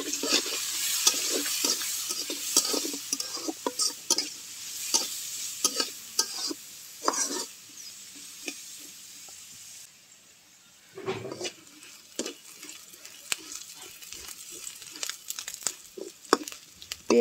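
Chopped onion and green chilli fry in hot oil in a wok, with a bright crackling sizzle and repeated scraping stirs up close. The sizzle drops briefly partway through, then the stirring resumes.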